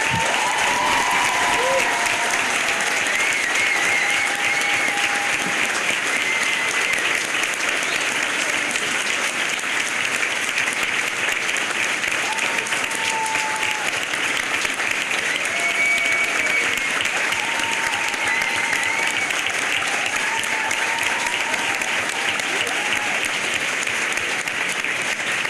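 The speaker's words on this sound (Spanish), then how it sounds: "Le agradecemos muy especialmente con este aplauso fervoroso a Estela de Carlotto." A sustained, fervent round of applause from an audience at a book presentation, honoring Estela de Carlotto; steady dense clapping runs the whole time with scattered voices and a few whistles on top.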